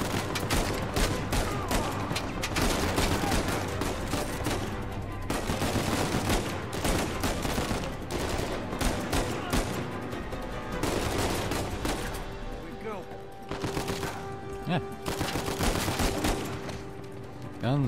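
Sustained gunfire from a firefight in Uncharted 4, with dense bursts of automatic weapons and single shots rattling on continuously and fairly loud, no pauses.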